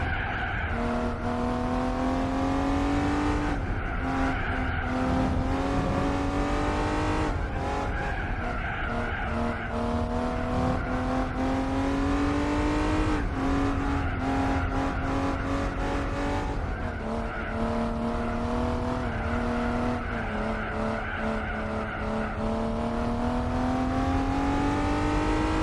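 Race cars in Gran Turismo 4 blaring continuously, engines climbing and dropping through repeated gear changes amid skidding and tire squeal, loud and sustained with no voices.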